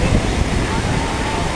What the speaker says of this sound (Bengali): এত বড় ঢেউ